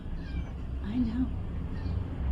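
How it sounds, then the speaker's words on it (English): A cat gives a short, fairly faint meow amid low room noise, with people talking nearby. "So we have a kitty cat here."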